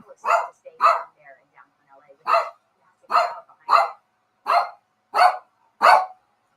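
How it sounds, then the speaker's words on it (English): A pack of dogs barks in sharp, evenly spaced bursts, about nine loud nearby barks across several seconds with short pauses between, heard alone without talk. "I got to go let my dogs out."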